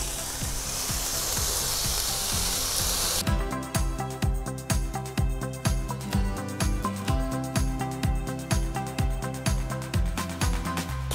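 Shrimp and mango skewers sizzle on a hot plancha, a dense steady hiss that gives way to a rhythmic series of clacks and scraping as the cooking continues, close and fairly loud.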